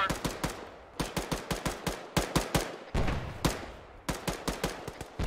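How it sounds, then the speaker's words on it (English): Rapid bursts of automatic gunfire in a military shooter video game set around a treeline, loud and close with short volleys and sharp single cracks repeating through the whole stretch. "Return fire."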